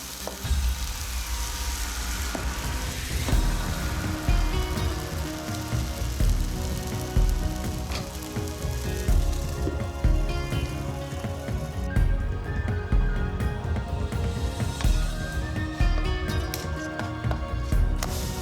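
Fenugreek paratha batter sizzling in a hot pan, made like a pancake: a loud, continuous frying hiss with crackles that holds steady throughout, close up, with no one speaking.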